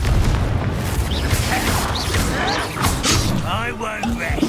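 Confringo blasting spell in the video game Hogwarts Legacy, a booming burst with crackling debris, overlapped by a shouted voice and other game voices.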